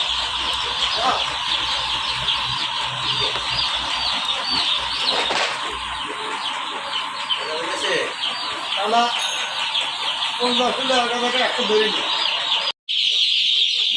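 Colour bird chicken chicks at a wholesale hatchery, chirping and peeping densely in a constant high chorus with some wing flapping, with no talk over them.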